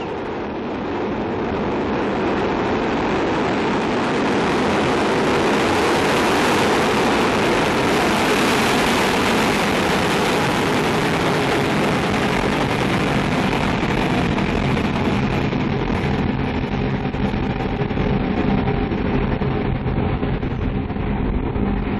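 A Soyuz ST-B rocket lifting off from French Guiana produces a loud, continuous broadband roar that swells over the first few seconds, holds thunderously, then slowly eases as the launcher climbs away.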